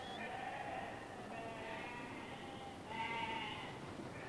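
Lambs bleat on a sheep farm where hundreds of spring lambs are being sorted for market, a few wavering calls rising over a steady low background of farm noise.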